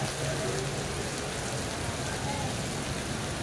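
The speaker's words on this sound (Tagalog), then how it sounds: "Lakas ng ulan." Heavy rain pours down steadily, a dense, constant hiss of drops drumming on a surface close by.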